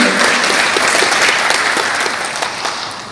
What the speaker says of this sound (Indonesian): Nah, mesti tepuk tangan.